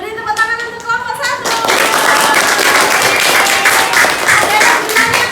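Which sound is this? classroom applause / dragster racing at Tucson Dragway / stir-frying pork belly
classroom applause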